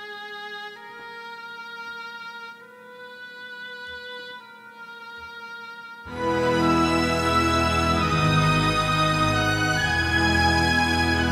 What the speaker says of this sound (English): legato from the woodwinds